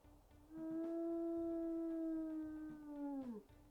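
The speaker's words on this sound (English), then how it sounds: "Let's go ahead and listen to her howls," A wolf in the video game WolfQuest gives a single long, clear howl that holds a steady pitch for nearly three seconds before sliding downward at the end, close and loud with no talk over it.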